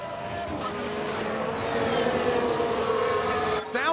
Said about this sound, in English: Sounds like there's been a crash.